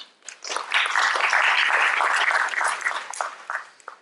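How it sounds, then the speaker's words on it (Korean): A seminar audience at a startup forum applauds to welcome a presenter. The clapping swells quickly, stays dense and bright for a few seconds, then thins out and fades. "큰 박수로 모셔보겠습니다."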